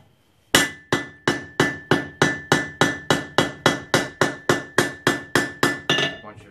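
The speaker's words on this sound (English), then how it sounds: "If you have a gap in between and you set the rivet, you'll probably mushroom the rivet into the gap." Steel hammer strikes on a rivet being set to join a pair of kit forge tongs: about sixteen sharp, ringing metallic blows in a steady, even rhythm, loud and close, each decaying quickly, with no talking.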